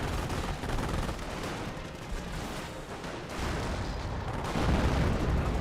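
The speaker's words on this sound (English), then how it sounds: "We do now have the 25-pounder barrage coming on in." A 25-pounder artillery barrage in the WWII strategy game Company of Heroes: dense, sustained rumbling blasts and overlapping impacts, loud and continuous throughout with no talking.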